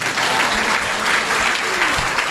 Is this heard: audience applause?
yes